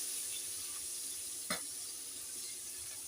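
Fish fries in hot oil with a continuous steady sizzle heard from a short distance, broken once by a single sharp pop of spattering.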